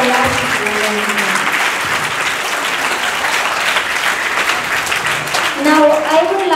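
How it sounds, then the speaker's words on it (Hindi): An audience claps steadily after a child's Mother's Day speech, loud, dense applause that holds throughout, with a voice starting up near the end. "इतना सुन के अगर आप बजा दे ताली"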